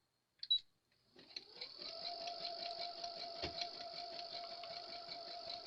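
A sewing machine runs steadily along the seam of a patched blanket, its fast even whir and needle chatter starting after a brief clack and continuing alone at moderate level.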